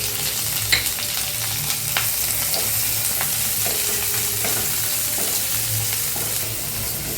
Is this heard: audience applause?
no